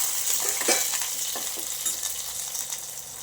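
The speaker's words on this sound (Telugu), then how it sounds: "ఇందులో కొంచెం అంతా కొత్తిమీర, దీన్ని కూడా వేయించేసుకొని" Coriander leaves frying in a pan, giving a steady soft sizzle with a few faint stirring scrapes, close and fairly quiet, no voices.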